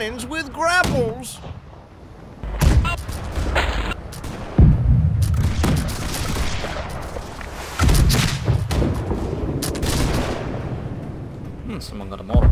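Mortar and cannon fire from a Blackwake naval battle rings out in repeated heavy booms and thuds amid game noise, while players shout over the gunfire.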